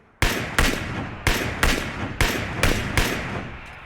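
Six sharp, loud gunshots ring out in PUBG at a steady, roughly half-second spacing, each one a crisp crack with a short echoing tail, with no talk.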